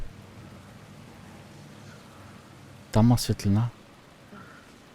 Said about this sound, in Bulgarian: Защо ми беше този дъжд сега?